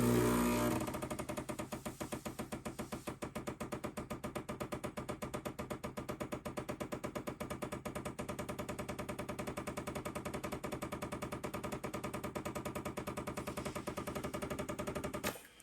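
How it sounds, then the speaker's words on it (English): An espresso machine pulling a shot runs with a steady, rapid pump rattle and hum that holds evenly for about fifteen seconds before cutting off. "let's go ahead and pull our shot"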